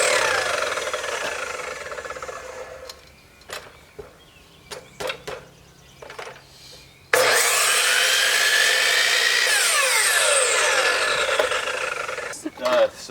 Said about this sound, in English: Let's go back and see what he's sawing back there.